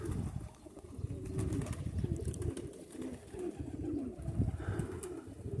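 Pigeons coo near a rural barn, a soft, throaty cooing that repeats in low murmuring phrases over several seconds against steady outdoor background noise.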